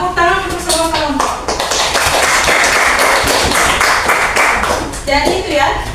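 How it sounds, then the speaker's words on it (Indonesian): Students in a classroom applaud together for all the discussion groups, a dense burst of clapping that runs for several seconds, with voices heard in the room at the start and end. "Tepuk tangan untuk semua kelompok."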